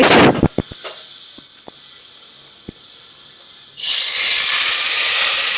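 Garlic and ginger dropped into hot mustard oil in a karahi burst into a loud, steady sizzle that holds close and bright, after a few sharp crackles and ticks at the start.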